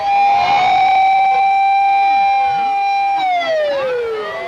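A wailing emergency vehicle siren from rescue vehicles rushing in to help after a disaster, loud and close, holding a steady tone and then sliding downward as it passes, with a faint voice underneath.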